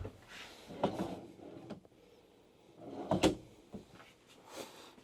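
Drawers in a 2025 Renegade Explorer 40ERB RV slide open and shut twice, each a soft close-up rumble ending in a light knock, quiet and with no talking.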